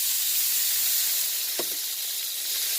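Onions sautéing in melted butter in a pan for buttered fried cassava, a steady close sizzle throughout with one brief louder crackle partway, no talking.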